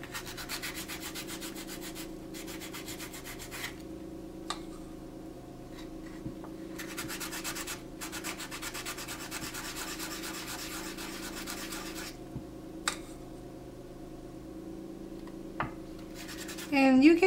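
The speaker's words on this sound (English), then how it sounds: "Then I sand the back too." Sandpaper rubs across the back of a polymer clay faux turquoise stone in short repeated passes, a soft dry scraping that stops and restarts, close and fairly quiet.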